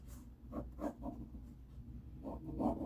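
Pencil sketching perspective lines for an interior drawing on paper, giving a few quiet, close scratchy strokes in short bursts separated by brief pauses.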